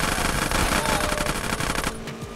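Sustained automatic gunfire in GTA San Andreas Definitive Edition, during the train mission, rattles loudly and continuously for about two seconds before cutting off abruptly. No voices are heard.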